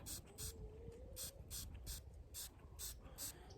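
A perfume atomizer sprays onto cotton balls in a series of short, sharp hisses, about a dozen quick bursts in an irregular rhythm, close and fairly quiet.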